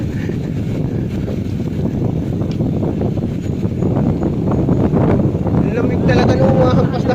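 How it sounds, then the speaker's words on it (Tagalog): Strong, cold wind buffets and roars across the microphone during a bike ride in Laurel, Batangas, in a constant rush, with a voice faintly underneath. "Lamig talaga nung hampas na hangin, no?"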